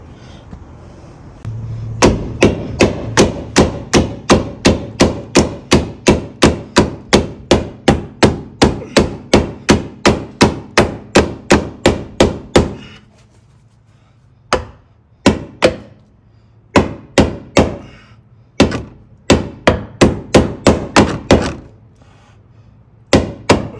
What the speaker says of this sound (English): just hit it on this over here with the hammer